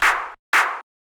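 Two layered hand-clap hits in a row, each bright and crisp with a short noisy tail, separated by a brief silence.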